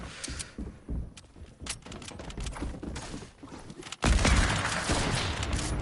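Gunfire in the Fortnite video game, several sharp shots scattered across the first few seconds, then a sudden loud, dense burst of noise that sustains to the end. No voices are heard.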